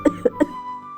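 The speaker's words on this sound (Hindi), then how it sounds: "पिता खांसते हुए लेटे हैं।" A man gives three short, dry coughs in quick succession, close by, followed by a faint lingering tone.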